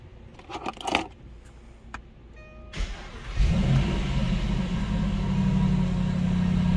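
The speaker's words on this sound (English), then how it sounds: "let's go ahead and do an engine startup." A few clicks and a starter whir, then the engine of a 2010 Jaguar XK Portfolio coupe catches and settles into a loud, steady idle.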